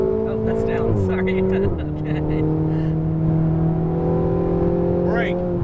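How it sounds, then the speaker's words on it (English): Ferrari 488 GTB engine under heavy throttle, a loud, close, steady roar climbing in pitch with a brief dip at a gear change, while someone talks over it. "A little more throttle. Lots of throttle. More throttle. Upshift."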